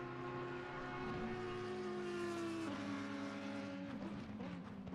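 Audi and McLaren GT3 race cars in a racing game at Silverstone drone steadily with sustained engine whine, pitch shifting as they run close together down the straight, no talk.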